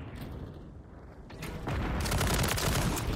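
Rapid full-auto bursts from a Jak Protean conversion kit in Modern Warfare 3, a quiet stretch then dense, loud rattling fire in the final second and a half.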